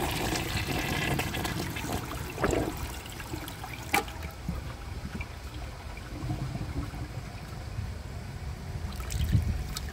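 A 1995 Mansfield Alto toilet with an almost empty bowl flushing while the handle is held, a steady rushing gurgle of water running close and moderately loud for several seconds, with small splashes and no talk.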